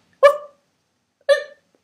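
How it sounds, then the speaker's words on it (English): A schnoodle gives two sharp, separate barks about a second apart, close and clear against complete silence. "If she sees somebody wearing buttons, she barks."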